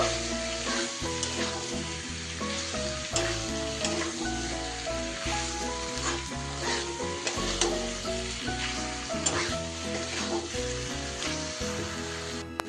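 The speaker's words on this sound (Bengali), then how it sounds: "এইবার আমার আগের থেকে ভেজে রাখা সবজিগুলো দিয়ে খুব ভালো করে চিংড়ির সাথে আর মশলার সাথে মিশিয়ে নেব।" Pre-fried mixed vegetables are stirred into prawns and spices in a hot pan, giving a steady close sizzle with repeated scraping and stirring throughout. Music plays underneath the whole time.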